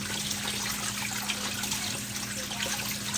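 Food being washed under a running kitchen tap, with water trickling and splashing steadily and fairly close throughout.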